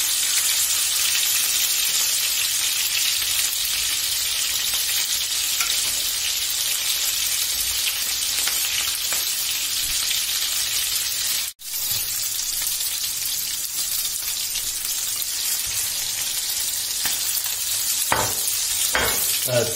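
Chicken skewers frying in a pan, a continuous loud sizzle held for a long stretch, with a brief drop partway through and a few sharper crackles toward the end, no talking.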